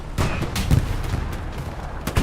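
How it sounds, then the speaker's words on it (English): A bombing run in the World War II video game Hell Let Loose, with several heavy, booming explosions thudding at irregular intervals over rumbling battlefield noise, some distant and others closer. "Sounding like bombing run."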